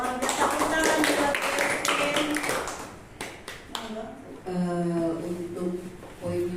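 Scattered claps from a small school group during an Indonesian teachers' mentoring discussion, uneven and patchy rather than a full ovation, with people talking over much of it.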